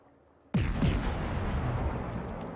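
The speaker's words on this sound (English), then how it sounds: "Getting in some shots at the broadside Monarch because the turrets were just conveniently looking that way." Battleship turret guns in World of Warships fire in one sudden, heavy boom after a quiet start, followed by a long rumbling roar that holds loud and fades slowly.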